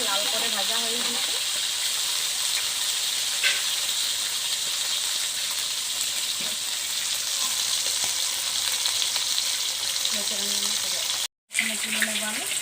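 Spice-coated rohu fish pieces sizzle in hot oil in a pan, a continuous close hiss and crackle with occasional spatula scrapes and a short break near the end.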